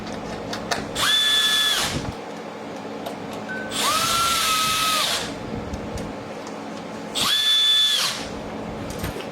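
A power drill fitted with a Torx bit drives screws while installing a front splitter on a 2023-or-later Corvette C8 Z06 or E-Ray. Three loud whirring bursts of about a second each, separated by quiet pauses, with no talking.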